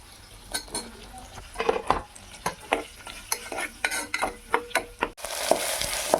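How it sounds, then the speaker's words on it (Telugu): Bay leaf, cashews and onions fry in a pan for tomato rice, with a soft steady sizzle under repeated scraping, stirring and clinking of a utensil against the pot, near and moderately loud, with no talking. "బిర్యానీ ఆకు, జీడిపప్పులు, ఇవి కొంచెం ఫ్రై అవ్వాలండి. ఉల్లిపాయలు కూడా యాడ్ చేస్తున్నానండి."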